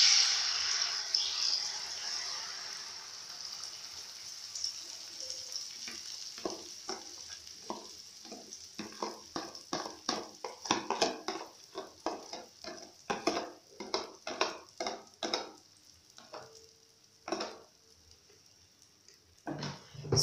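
An egg and milk mixture for scrambled eggs poured into a buttered pan, where it sizzles steadily, with rapid scraping and stirring strokes from a spatula building up close and clear.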